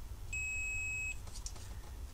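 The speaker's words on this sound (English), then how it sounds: "With a buzzer." A single steady electronic beep from a continuity-testing buzzer, high-pitched and continuous for under a second, over a low background hum, followed by faint clicks.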